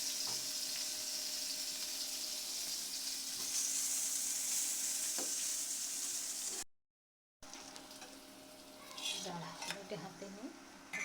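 Bori frying with garlic and onion in oil in a pan, a steady soft sizzle for several seconds, then a brief gap followed by stirring clatter and a voice speaking.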